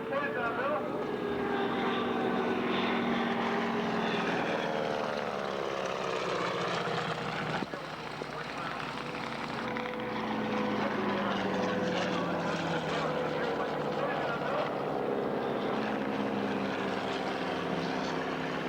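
P-40 warbird at a Pearl Harbor attack reenactment, with loud propeller aircraft engines droning and shifting pitch as planes pass at varying distance, while a person talks over a public address.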